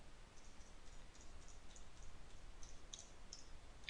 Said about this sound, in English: I'm going to hold down shift on my keyboard and I'm going to go across the top.